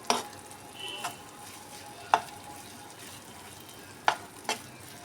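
A spoon stirring sago and sugar in a pan for halwa, a few sharp scraping clicks spaced irregularly over a soft sizzling background, close and fairly quiet.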